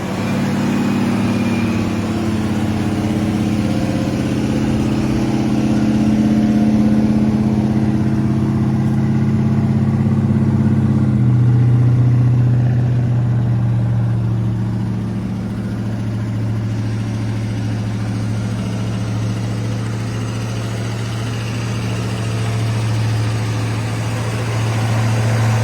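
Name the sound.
1969 Ford Torino Fastback 428 SCJ V8 engine idling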